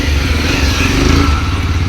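A motorcycle engine roars loud and close in a continuous rumble as the bike rides past. Nothing else is heard.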